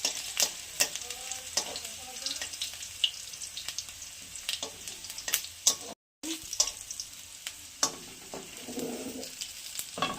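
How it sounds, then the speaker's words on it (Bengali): Potatoes frying in hot oil in a wok, a continuous near sizzle with frequent stirring clatter and faint bird coos in the background, briefly cut silent midway. "আলুটা একটু ভেজে নেবো আগে, কড়াইয়ে তেল দিয়ে রেখেছিলাম"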